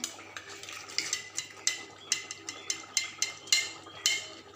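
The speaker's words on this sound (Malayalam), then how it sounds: "ഈ കടുക് പൊട്ടിച്ചത് അങ്ങോട്ട് ഒഴിക്കുവാണേ" Tempered mustard seeds in hot oil are tipped into a mushroom curry, giving a run of sharp clinks and scrapes of a metal spoon against the pan, with a soft sizzle underneath.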